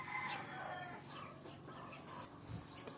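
An 11-month-old gray bull stag gamefowl rooster in a backyard breeding yard gives a short burst of clucking and fowl calls, close and moderately loud, over a steady outdoor background.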